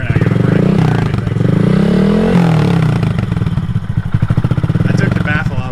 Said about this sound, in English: I took the baffle out of the muffler so it's louder, so you can hear it better with the helmet